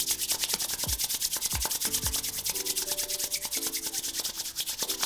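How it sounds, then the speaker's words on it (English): Palms rub briskly together to warm them, giving a close, continuous, rhythmic swishing friction with steady strokes and no talking. "So now we're going to rub the palms together"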